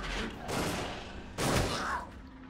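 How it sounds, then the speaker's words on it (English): An enemy fires in the game Alien: Isolation, two quick rattling bursts of gunfire at moderate volume with a short gap between them. "He was shooting at me and then she showed up and then he started shooting at her"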